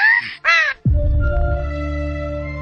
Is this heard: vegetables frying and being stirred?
no